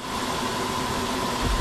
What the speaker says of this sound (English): Stop revving!